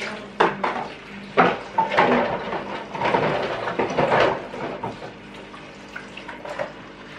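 Water runs from a tap with clattering dishes and splashes, in irregular bursts close by, with no voices.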